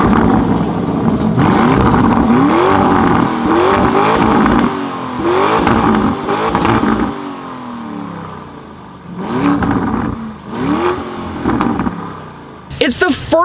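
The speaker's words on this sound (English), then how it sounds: "the best sounding SUV in the world. But how about I let you listen to it for yourself" A 2019 Lamborghini Urus V8 SUV revs repeatedly, its engine rising and falling in a series of loud, close blips, then settling before a few final revs.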